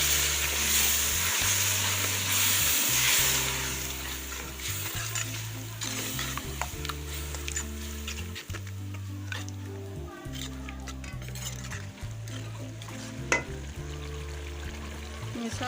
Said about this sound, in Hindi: मसाला हमारा फ्राई हो गया